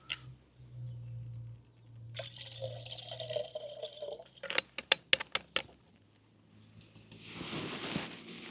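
Water is poured into a camping pot outdoors on a hiking trip, a short trickle followed by a few sharp clinks and splashes, then a longer gushing pour, all faint with quiet pauses between.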